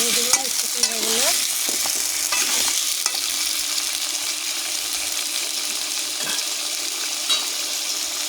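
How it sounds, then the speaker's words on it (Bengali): Pumpkin pieces being stirred and fried in a pan for a hilsa-head pumpkin ghonto give a continuous, close sizzle with scraping stirs, loudest at the start and then settling into a steady crackle, with no talking. "ভালো করে নেড়ে দেবো মিষ্টি কুমড়াগুলো।"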